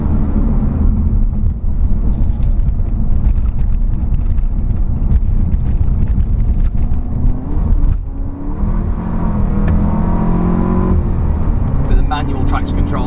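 Race car engine droning loudly from inside the cabin on a wet Nürburgring Nordschleife lap, with a steady low roar, a brief dip and rise around a gear change or lift, and wind buffeting throughout.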